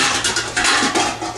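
A metal pan is handled up close, giving loud, dense scraping and clattering rubs over a second and a half, with no talk.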